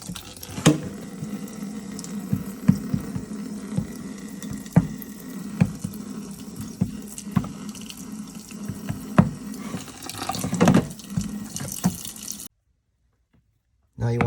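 Water pours into Durabond joint compound in a mixing tray, a continuous splashing trickle with small sloshing bursts that ends abruptly near the finish.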